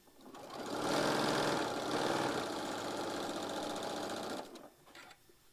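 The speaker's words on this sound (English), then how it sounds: "And I'm sewing literally a thread over we're going to just sew all the way down." Sewing machine stitching quilt block fabric in one steady run of rapid mechanical clatter, close and loud, lasting about four seconds before stopping abruptly.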